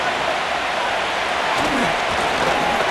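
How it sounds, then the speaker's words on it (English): Video game stadium crowd in Madden NFL 25 at a Titans versus Raiders game roaring ahead of third down, a dense, loud, unbroken wall of cheering noise throughout. "This crowd into it now as we get to third down."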